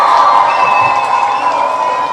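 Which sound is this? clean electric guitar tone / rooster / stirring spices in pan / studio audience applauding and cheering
studio audience applauding and cheering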